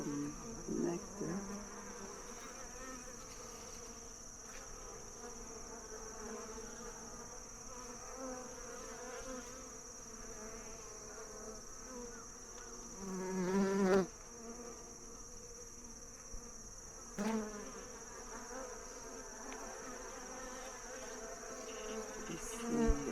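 Honeybees buzz at an open hive in a continuous, close, moderately loud drone, with a few louder swells as individual bees pass near.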